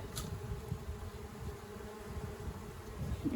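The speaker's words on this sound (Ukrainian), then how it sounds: "Вся бджола піднімається до гори." A dense, steady buzzing of a honeybee swarm around a tree hollow fills the air, continuous and close, with no voices.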